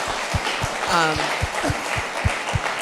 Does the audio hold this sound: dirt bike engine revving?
no